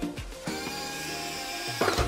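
Small electric motor driving the remote-controlled door of a 1/6-scale Spider-Man Hall of Armor figure display, a steady whirring drone with brief shifts in pitch at start and end, close and fairly quiet.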